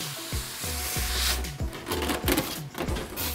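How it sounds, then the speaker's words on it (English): Top styrofoam packing pulled out of the box of a 2022 LG C2 OLED TV, giving a close burst of squeaky, creaking foam scrapes and rubbing against cardboard over a few seconds, with no speech. "So now we can take off this top styrofoam."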